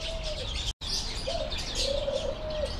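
Caged birds on a holiday excursion in Dorchester and Bournemouth chirp busily and coo, with soft cooing tones under steady high twittering and a brief silent gap early on.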